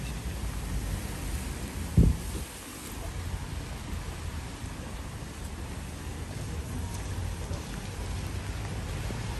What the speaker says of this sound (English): God send us some rain